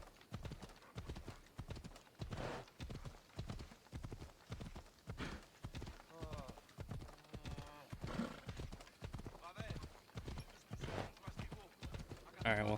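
Horse hooves clip-clop in a steady, rhythmic gait in the video game Assassin's Creed Odyssey, with occasional whinnies and someone talking over the hoofbeats.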